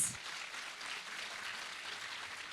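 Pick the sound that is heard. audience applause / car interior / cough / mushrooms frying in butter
audience applause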